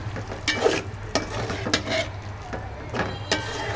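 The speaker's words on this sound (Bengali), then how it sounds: "একটু কষানো হোক আমার মাছটা কষানো হয়ে গেছে" Singi fish being sautéed in a pan for a fish curry, a steady sizzle under a handful of distinct spatula scrapes and stirs, near and fairly loud, with no speech.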